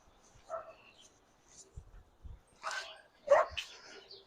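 Puppies bark and yip in brief bursts in a kitchen during a smoked chicken cook, a few sharp yaps scattered through the stretch, one louder near the end, with light handling noises between them.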